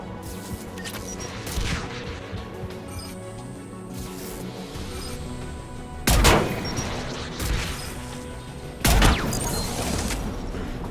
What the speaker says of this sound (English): The Geth anti-aircraft guns are up ahead.